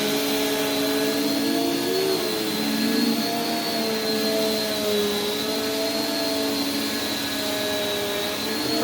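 A Prolux CTX water vacuum cleaner runs steadily, a loud, constant motor whine and airflow roar with a slightly wavering pitch as the hose moves, close and alone.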